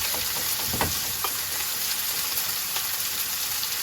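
Salmon and vegetables with Cajun spice seasoning sizzle steadily in a pan, a dense hiss carrying a few soft stirring knocks near the start, with no talking.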